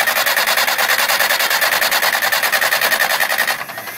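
A tractor starter motor cranks the engine in a rapid, regular chugging rhythm for several seconds, loud and close, then it cuts off abruptly into quieter rumble.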